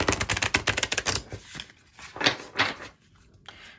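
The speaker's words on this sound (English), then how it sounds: "So I'm going to shuffle these cards" Cards from a Starseed oracle deck being shuffled by hand: a fast run of crisp, close papery clicks and riffles, then a few slower, softer shuffling bursts, with no talking.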